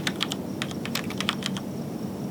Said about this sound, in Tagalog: The only thing na maririnig ay ang tunog ng bawat piraso ng letra sa keyboard na pinipindot